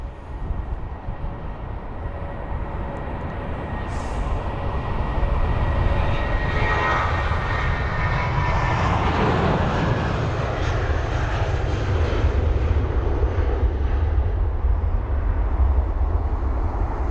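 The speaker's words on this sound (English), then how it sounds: "Got 787 just taxiing in front now. It's going to be the 9 Dreamliner by the looks of it." Boeing 787-9 Dreamliner airliner taxiing at London Heathrow, a steady broadband jet engine roar that builds after a few seconds and holds loud and continuous, with a faint whine above it.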